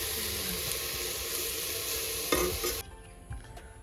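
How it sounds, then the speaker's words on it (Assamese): Onions fry in a pan with a loud, steady close-up sizzle and a few stirring scrapes, and the sizzle drops away sharply near the end, leaving quieter clatter. "এইফালে পিঁয়াজ দিলোঁৱেই বাৰু অলপ মানে ৰঙচুৱাকৈ ভাজি"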